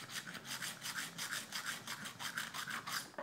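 A knife edge is worked on a Hone rolling knife sharpener with a 200-grit disc, making a quick, even series of about ten close, raspy rubbing strokes with no talking.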